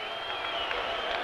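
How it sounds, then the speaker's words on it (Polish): A boxing arena crowd reacts to Andrew Golota, a heavyweight facing Mike Tyson, with a steady, distant wash of applause and booing. "część sali bije brawa, część wyraża swoją dezaprobatę"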